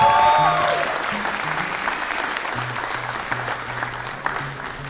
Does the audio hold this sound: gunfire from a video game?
no